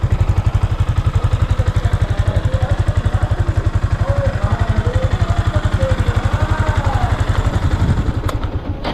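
A Yamaha Sniper 155 motorcycle idles close by with its exhaust covered, a steady, quiet, even engine pulse running throughout with a faint higher whine and some light clatter over it.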